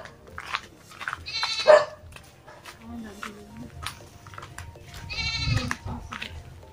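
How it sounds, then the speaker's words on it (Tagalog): Goats bleating while grazing outdoors, several loud, wavering bleats from close by at intervals, with a person talking softly between them. "Maraming kambing dito guys."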